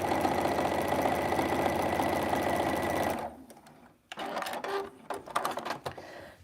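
A home sewing machine top stitching a snowman mug rug, a steady fast mechanical whirring chatter that stops abruptly, followed by a few clicks and handling sounds, with no talking.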